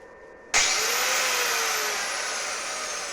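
Steady abrasive whine of a power grinder sharpening the tip of a welding electrode, starting abruptly and holding loud and close for about three seconds with a slowly falling pitch, no voices.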